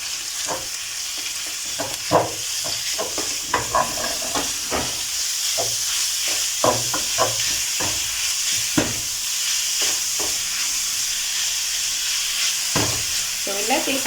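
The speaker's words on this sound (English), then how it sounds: "So add in your minced meat" Minced beef frying in a pot for a stew, a steady close sizzle and hiss broken by repeated scraping clicks of a spoon stirring the meat.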